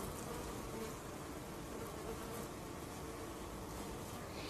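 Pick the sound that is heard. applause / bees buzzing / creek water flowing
bees buzzing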